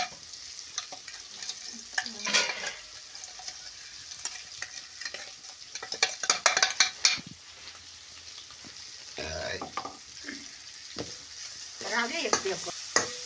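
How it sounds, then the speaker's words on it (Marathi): Ground peanut, chili and turmeric paste with salt stir-fried in hot oil for a cabbage dish, a steady sizzle broken by repeated scraping stirs of a spoon in the pan, close and moderately loud, with no talking. "आता व्यवस्थित परतून घ्यायचं आणि सर्व गोष्टी हलवून घ्यायच्या आहे"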